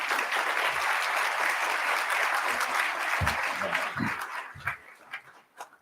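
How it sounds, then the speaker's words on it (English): An audience claps steadily for a forum moderator as he walks to the stage at a morning pancakes-and-politics event, the applause loud and sustained before thinning into scattered claps with faint low thumps near the end. "Please give him a round of applause as he walks to the stage."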